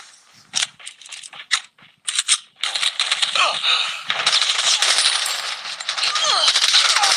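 Gunfire in Call of Duty: Mobile starts as a few short separate bursts, then runs into loud, continuous automatic fire with rattling mechanical clatter and faint in-game callouts mixed in.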